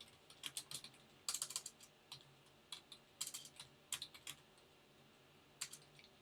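Rapid bursts of keystrokes on a computer keyboard come in short uneven clusters separated by brief pauses, crisp and close but fairly quiet in a calm room.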